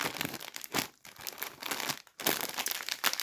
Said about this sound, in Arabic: هنفتح ونقول بسم الله الرحمن الرحيم